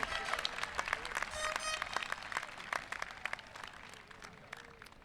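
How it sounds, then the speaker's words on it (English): Parents applaud at a 2022 Strongsville City Schools high school commencement, a steady wash of clapping from a large crowd that slowly fades, with a few voices mixed in. "please give yourselves a round of applause"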